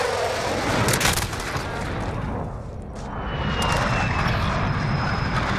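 A VTOL aircraft flies in a first-person shooter match, its engine a loud, steady broadband roar that fills the scene and briefly dips before swelling again, with a faint high whine sliding through the middle.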